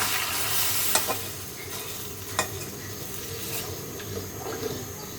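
Lentil dal tips into hot oil sizzling with cumin seeds, chopped garlic and onion, then a spoon stirs it. The hiss stays steady, with a few sharp scrapes and clinks of the spoon against the pan.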